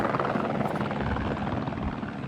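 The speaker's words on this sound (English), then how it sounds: "this helicopter just came back to the pile where we were at" A helicopter hovers low over a debris pile during a flood search, its rotor producing a loud, continuous thudding chop with heavy low rumble, close and steady throughout.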